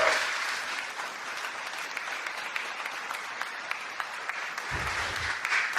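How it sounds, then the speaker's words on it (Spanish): Congregation in a church applauds during a Spanish-language sermon, a steady wash of many hands clapping at moderate distance, with a brief low rumble near the end. "amén, dele un aplauso al Señor"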